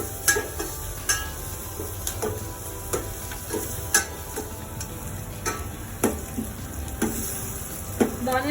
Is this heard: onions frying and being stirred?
yes